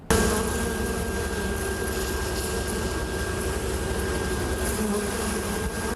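Honey bees swarm around many hives on an East Texas honey farm, their dense, continuous buzzing holding steady and close throughout with no voices.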